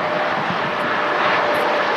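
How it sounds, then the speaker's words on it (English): Jet2 Airbus A330 airliner rolling out at Manchester Airport, a loud continuous broadband engine roar that holds steady and close throughout, with no talk over it. "An Airbus A330 with Jet 2."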